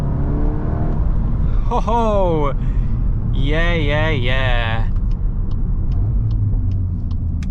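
A Volkswagen Golf R MK8.5 Black Edition engine revs hard in two rising and falling bursts from inside the car, loud and close, with a voice speaking over it.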